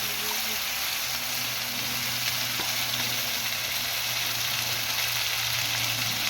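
Pabda fish curry frying in a pan with black cumin, a steady, even sizzle with faint low hum running unbroken throughout, no talk.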